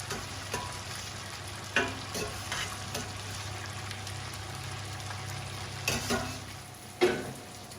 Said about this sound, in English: So we've put all of the gnocchi here in the burnt butter and the sage sauce, and we're just cooking it until it lightly heats up.